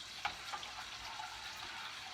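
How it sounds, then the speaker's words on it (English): Country ham fries at medium-high heat in a pan while gravy is stirred, giving a steady close sizzle with a couple of soft spoon scrapes near the start. "You really have to keep stirring the gravy too."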